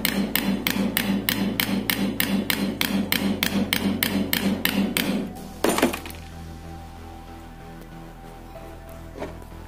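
A hammer strikes a bushing into the shifter-knob thread of a Hurst gear shifter from a Chevy Nova, giving about fifteen rapid, evenly spaced metallic blows. One louder final knock follows, then quiet shop ambience.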